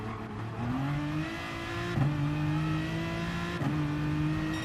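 A race car in Gran Turismo Sport accelerates out of a corner at the Nürburgring, a loud close engine whine that steps up through several quick gear shifts.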